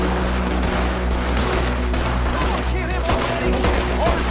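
Gunfire in Red Dead Redemption 2 during a wanted shootout, with dense overlapping shots and rattling bursts running continuously over a loud, busy game soundscape.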